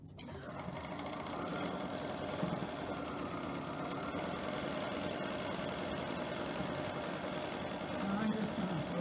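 A sewing machine stitches down a 1.5 inch fabric strip with a steady, continuous whirring hum, close and even for the whole stretch, with a slight change near the end.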